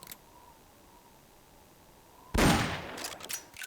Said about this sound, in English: because you'll hear the gunshot